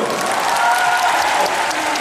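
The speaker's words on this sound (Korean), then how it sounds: "박수 한번 주세요" Audience applause at a fan meeting talk event, a continuous dense wash of many hands clapping at steady loudness with faint cheering underneath.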